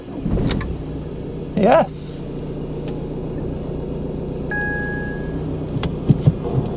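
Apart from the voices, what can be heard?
Fiat 500X Cross engine starting and idling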